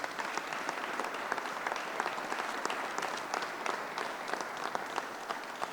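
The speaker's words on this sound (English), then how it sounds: "please give a round of applause for House Chair Ways and Means Michaelwitz" Steady applause from an audience at a state budget signing ceremony, honoring the House Chair of Ways and Means, dense and sustained throughout without a break.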